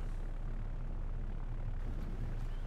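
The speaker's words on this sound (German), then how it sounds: "Was ist denn für ein Flugzeug?" Aircraft engine in the naval video game Victory at Sea Pacific: a steady, loud droning roar with low rumble, continuous throughout.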